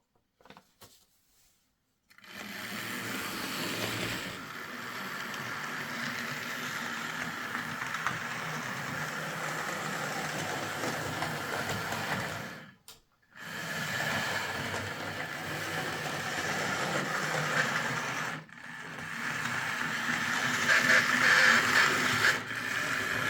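A Hornby Patriot Class model locomotive in need of repair runs on track with poor traction, giving a steady whirring, grinding motor drone that stops briefly twice and then resumes, close and moderately loud.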